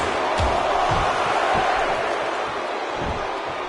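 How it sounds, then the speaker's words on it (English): A crowd roars at a wrestling match in WWE 2K16, a dense steady wash of cheering with a few dull thuds and faint speech underneath. "by the sound of this crowd, I think they're getting what they wanted"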